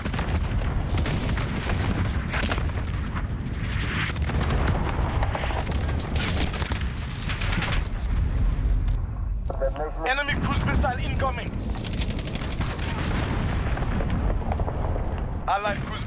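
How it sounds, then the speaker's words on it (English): Cluster strike explosions in a Modern Warfare multiplayer match, a dense run of booming blasts and rumbling impacts with gunfire crackling throughout, and game announcer voices calling out over the noise. "Friendly cluster strike inbound."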